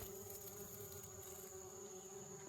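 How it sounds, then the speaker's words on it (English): Bees buzz steadily around butternut squash plants in a summer garden, a continuous close hum with a sustained whine, loud and alone with no talk. "That's the bees."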